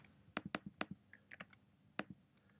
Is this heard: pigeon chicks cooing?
no